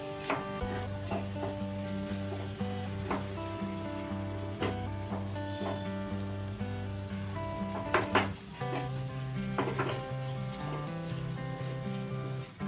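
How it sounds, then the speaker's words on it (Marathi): Thick sweet modak filling is stirred in a pan after cardamom powder goes in, giving a soft, steady sizzle with scraping and intermittent spoon clinks against the pan, plus a few sharper knocks near the end. "त्यामध्ये आता मी वेलचीपूड टाकते छान मिक्स करून घ्यायचं"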